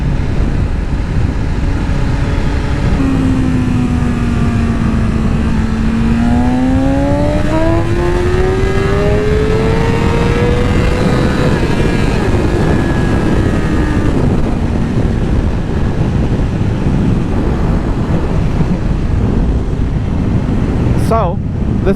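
A motorcycle with a fault from bad fuel revs up hard for a wheelie, its engine note climbing and rising in pitch over several seconds before it settles, with steady wind rush throughout and no talk.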